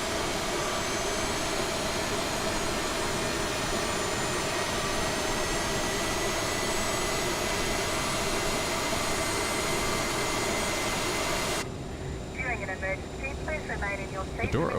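A Bombardier CRJ700 jet engine runs after start in a flight simulator, a loud steady whine and roar holding throughout, with a pilot's voice talking over it near the end.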